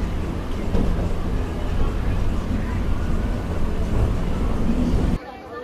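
A passenger train runs just after leaving the station, with a continuous rumbling roar that stops abruptly near the end.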